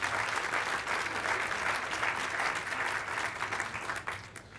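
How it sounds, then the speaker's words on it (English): Sustained applause from an audience at a mayoral inaugural speech event, steady and dense throughout before tapering slightly at the end. "Can we give all of our sponsors one more round of applause?"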